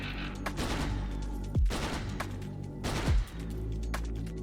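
Gyrocopter's Flak Cannon fires in a video game, rapid bursts of loud gunfire with two sharp whooshing descending shots standing out over the clatter.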